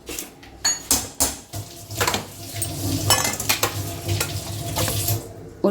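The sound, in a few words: stirring tomatoes and coriander into poha in a pan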